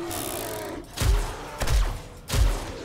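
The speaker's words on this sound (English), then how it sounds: "44 bullets to the bear" Three heavy, booming gunshots in a zombie survival game, fired at a baby bear, each loud, spaced about half a second to a second apart, with decaying reverberant tails and no talk.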